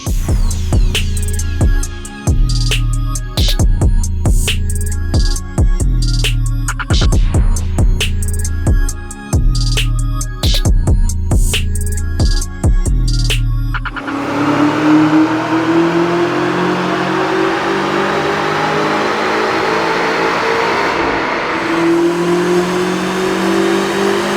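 A tuned BMW X5M with new plugs, coils and a stage 2 tune revs hard on a dyno, rising through repeated gear pulls before a long high-pitched wail as it winds up, loud and close with no talking.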